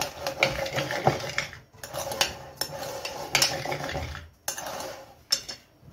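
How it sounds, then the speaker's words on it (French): Shrimp tabbouleh being stirred in a bowl, with a utensil scraping and clinking against the bowl in repeated irregular bursts, close and moderately loud, broken by short pauses and with no talking. "On va bien mélanger."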